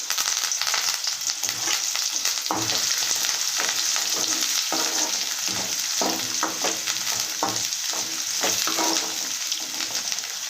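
Curry leaves fry in hot oil for a spicy Rayalaseema-style dish, a loud continuous sizzle with intermittent stirring scrapes, close up and without talking.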